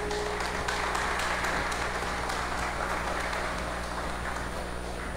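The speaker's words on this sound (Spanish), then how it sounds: "Un aplauso para Cristo." Congregation at a church wedding in Quito, Ecuador, claps during the ceremony, producing a soft, even, continuous patter of applause heard from a distance over a low steady hum.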